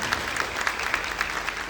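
Church congregation clapping together during a Pentecostal sermon, a steady dense patter of many hands with regular rhythmic accents, moderately loud and sustained throughout with no voices on top.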